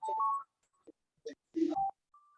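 A mobile phone rings during a church service, with short electronic tone bursts and beeps separated by silent gaps, fairly close and clear with no voices.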